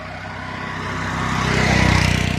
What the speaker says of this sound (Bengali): মোটরসাইকেল নিয়ে ঘুরতে আসছি।